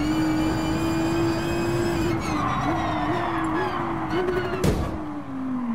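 In the Gran Turismo Sport video game, a Nissan GT-R R35 with a drag tune launches from the line, its engine droning loudly and climbing through stepped gear changes, with a sharp transient near the end.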